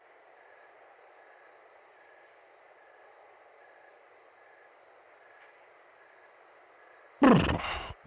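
Train in a Sherlock Holmes game, a faint steady rail hum and low rumble at a station for several seconds before a sudden loud burst of arrival noise near the end.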